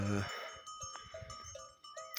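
Sheep and lambs on a mountain pasture, with clinking bells sounding intermittently and a few bleats over steady outdoor noise, close by.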